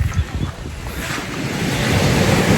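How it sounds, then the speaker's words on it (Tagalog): Ocean waves crash and wash onto a beach, close and loud. Heavy wind buffets the microphone and rumbles under the surf, which swells steadily louder. "Rinig na rinig mo yung hampas ng alon dito."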